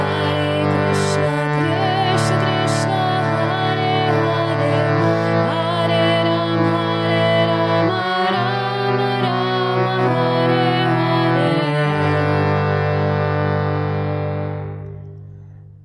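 Harmonium plays a tune at double tempo, a steady, loud reedy drone carrying a quick melody with sustained chords, heard alone before the notes fade out at the end.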